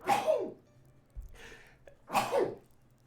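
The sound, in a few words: sneeze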